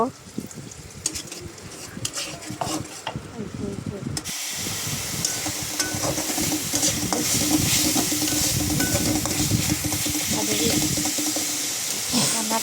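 Spices sizzle in a pan, and when water is poured in a loud steady hiss of steam rises while a spoon stirs and scrapes. Quieter clatter and stirring come first, then the hiss grows louder and holds, with voices talking over it.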